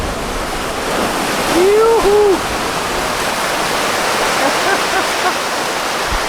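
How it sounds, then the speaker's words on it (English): Tsunami waves surge up a beach walkway at J Bay, a loud continuous roar of rushing surf and water filling the whole scene while a voice calls out once. "It's got waves coming in"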